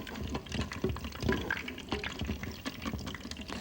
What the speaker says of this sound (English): I'll rinse my hands off here